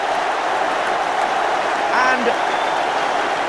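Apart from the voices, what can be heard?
football stadium crowd applauding a goal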